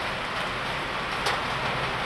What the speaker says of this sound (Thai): ฝนตกเลยพี่น้องเลยฝนตก